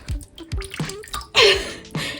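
Water draining and dripping out of small holes in a plastic doll's feet after submersion, heard as a few close, wet squirting drips and splashes in quick irregular bursts.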